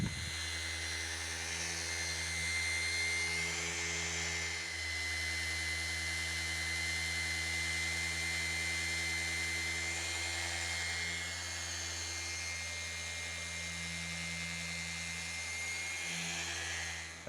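A machine polisher works car paint during swirl and scratch removal, giving a loud, steady motor whine that hums without a break from start to finish, up close and with no talk.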